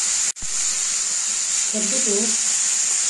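Grated pumpkin fries in melted ghee with a steady, close hiss throughout, while a brief voice speaks over the sizzle.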